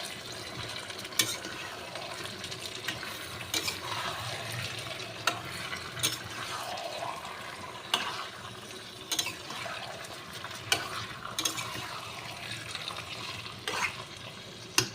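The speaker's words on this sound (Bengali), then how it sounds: "এবার এটাকে আমি ভালো করে কষাবো।" Chicken stir-fried in a pan, a continuous close sizzle punctuated by frequent sharp spatula scrapes and knocks against the pan at an irregular rhythm, fairly quiet overall and without speech.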